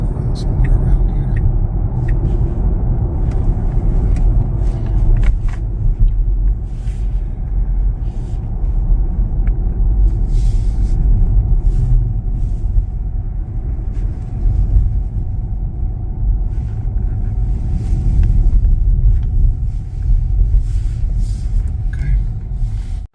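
Tesla Model Y Juniper on 19-inch wheels driving on a road, a steady low cabin rumble of road and tyre noise running throughout at a constant level, with no talk over it.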